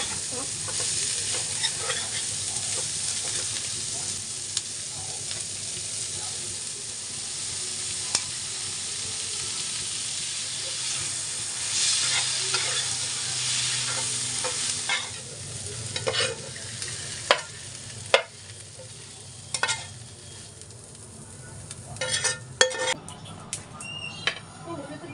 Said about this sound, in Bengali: কড়াইতে খুবই সামান্য তেল দিয়ে মাংসগুলোকে একটু ভেজে নেব